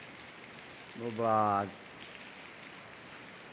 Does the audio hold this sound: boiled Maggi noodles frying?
no